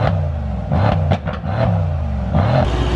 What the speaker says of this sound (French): on va écouter le moteur, écoutez bien.